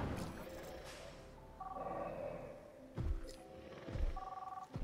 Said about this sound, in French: c'est pour ça qu'il y a un téléphone depuis tout à l'heure